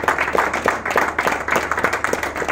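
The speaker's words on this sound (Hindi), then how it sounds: "एक बार तालियां राजेश जी के लिए" Audience applause for Rajesh at a Pragati Club training session, a dense burst of close, lively hand claps with uneven rhythm filling the whole stretch, with no talking.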